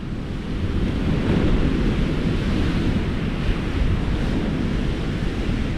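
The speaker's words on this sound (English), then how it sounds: "look at that wave over there" Storm-driven sea surf pounds a beach and breakwater at Workington, a continuous loud wash of breaking waves mixed with heavy wind buffeting the microphone, with no voices.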